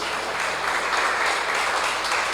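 A congregation applauds in a church, giving a steady, dense wash of clapping that holds evenly and fairly loudly throughout.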